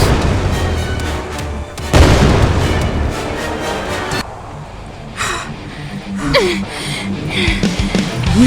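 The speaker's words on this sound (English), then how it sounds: "The shooting and the defense against the demons." Gunfire and booming blasts in the PC game Save Our Souls: Episode I as demons are fought off, heavy bursts that swell and fade with short gaps, loud and close, with a voice briefly heard among them.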